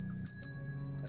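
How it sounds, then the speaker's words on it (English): A doorbell chimes in the mystery game Contradiction, a quiet, brief ring with a couple of bright tones over a low background hum. "Doorbell."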